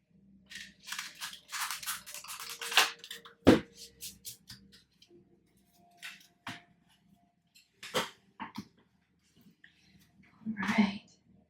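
A final shuffle of tarot cards, soft riffles and a sharp card snap, close and quiet, with someone speaking softly between the bursts.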